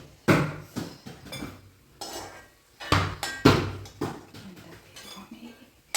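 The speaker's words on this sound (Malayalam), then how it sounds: "ഇത് ഞാൻ കോരി എടുക്കുകയാണ്." Metal utensil scraping and clinking against a pan while scooping out fried chopped ginger, in several irregular bursts, with brief pauses between scoops.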